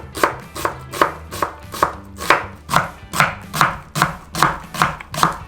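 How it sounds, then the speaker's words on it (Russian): A knife dices an onion into cubes on a cutting board, about a dozen crisp, evenly spaced chops in a steady rhythm, close and clear with no talking. "Ну и крошим кубиком."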